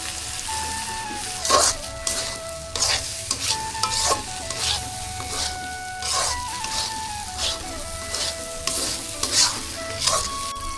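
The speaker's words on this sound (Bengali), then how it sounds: "নাড়াচাড়া দিয়ে ফুলকপি আর আলুটা যে রেখে দিচ্ছি ওটা আমি এখন দিয়ে নাড়াচাড়া করব" Cauliflower and potato tossed in hot oil in a frying pan, a loud close sizzle broken by repeated scraping stir strokes and a clattering spatula in an uneven rhythm, with no voices.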